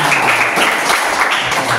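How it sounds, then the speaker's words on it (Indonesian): Classmates in a Catholic religion class applaud a student, a dense, steady patter of hand clapping filling the short moment at close range. "Oke, beri tepuk tangan untuk Levina."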